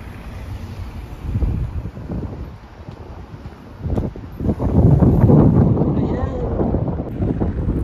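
Wind buffets the microphone in rumbling gusts, strengthening toward the end, with some faint background noise.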